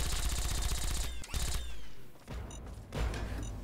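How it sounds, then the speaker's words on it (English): Rapid automatic gunfire and booming explosions from the video game Fallout 3 crackle in dense bursts, with brief gaps and sharp metallic clanks, loud and close with no talking. "Oh god, there's so many explosions going on right now."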